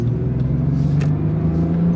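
An old pickup truck with a 6-cylinder engine accelerates, its steady low engine drone rising slightly in pitch and holding loud and close for the whole stretch, with no talking.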